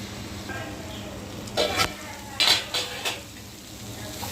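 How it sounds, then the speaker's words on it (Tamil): A spoon stirs an ivy gourd poriyal in a pan with a few distinct metallic clanks and scrapes. They come over a low background of cooking, in irregular bursts close by. "அதனால தான் இடையில இது மாதிரி கிண்டி விட்டுக்கிறோம்"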